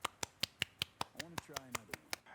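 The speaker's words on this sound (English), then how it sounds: "That was me one hand clapping." A series of sharp, evenly spaced snapping claps made with one hand, about a dozen in quick succession, close and crisp, with a quiet voice murmuring partway through.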